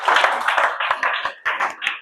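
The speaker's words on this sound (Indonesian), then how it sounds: "Boleh kasih aplaus." A small audience at an indoor gathering gives a short burst of close, dense hand clapping that trails off after about two seconds.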